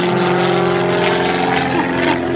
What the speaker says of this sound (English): Patrick Mcalee live from the cockpit of the Pitts S1E.